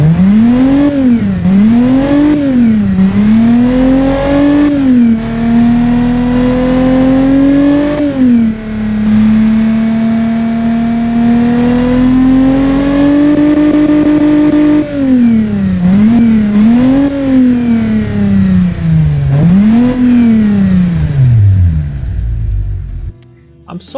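DeLorean DMC V6 engine with mechanical fuel injection revving in the Automation game, loud and close, climbing and falling through repeated throttle blips with a long sustained high-rev hold in the middle, no talk.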